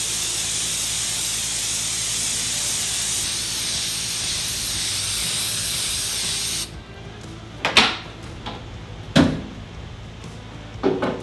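K&N red oil sprayed onto a TRD air filter gives a loud, steady aerosol hiss lasting about six and a half seconds, then cuts off abruptly, followed by a few close knocks and clunks.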